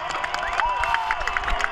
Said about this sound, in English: we want to hear your applause